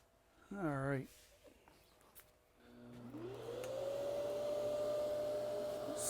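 A brief vocal sound, then a vacuum motor whirs up with a rising whine and settles into a loud, steady suction roar, sucking up wood dust.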